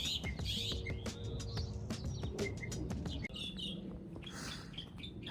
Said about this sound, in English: I just hear some birds.